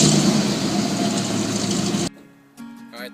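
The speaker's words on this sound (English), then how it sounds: "start your car and let it run a little bit so you can build the pressure back up" A car engine runs at idle right after an oil change, a steady dense rumble for about two seconds that suddenly cuts out, followed by quieter knocks and clatter.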